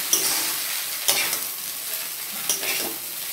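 Soaked mixed vegetables tossed and stir-fried in a pan for rice noodles, a close, loud sizzle broken by three sharp scraping strokes of the spatula against the pan.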